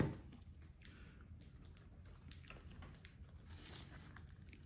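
A Quaker parrot nibbling on a piece of bell pepper, soft close-up bites and wet squishy chewing in quick irregular clusters over a quiet room, no voices.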